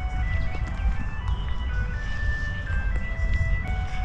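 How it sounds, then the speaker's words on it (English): An ice cream truck chiming its tinkling melody as it drives past a park in Chicago, the tune steady over continuous engine and road rumble, fairly close. "Look at that ice cream truck. It's like a van. It's an ice cream moving van."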